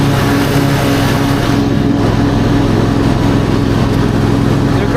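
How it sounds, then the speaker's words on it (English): A Husqvarna lawn mower runs with its deck raised, cutting wet grass in a loud, steady engine drone that stays close and continuous with no talking. "This mower hates wet grass, but I've got the deck up."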